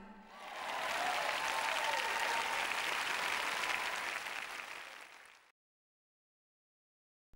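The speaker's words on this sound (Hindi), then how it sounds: "तालियां बजानी चाहिए क्योंकि मैं अच्छा प्रचार कर रही हूं।" A church audience claps during a sermon: a dense wash of applause swells in, holds steady, then fades and gives way to silence.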